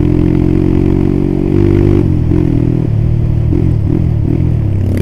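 A motorcycle fitted with a Creempie aftermarket exhaust revs loudly up close, its deep throaty drone surging, dropping and rising again in short pulses with no talk over it.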